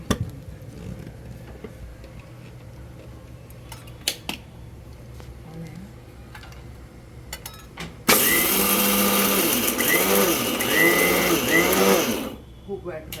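Roasted peanuts are ground coarsely in an electric mixer grinder, which starts abruptly partway through with a loud, pulsing whir for about four seconds, after quieter kitchen sounds and talk.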